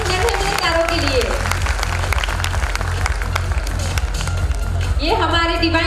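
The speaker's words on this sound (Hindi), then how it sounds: "एक बार जोरदार तालियां हो जाए इन नन्हे मुन्ने सितारों के लिए" Audience applause for nursery class children at a school annual function, steady and dense throughout, with music or voices rising over the clapping at the start and near the end.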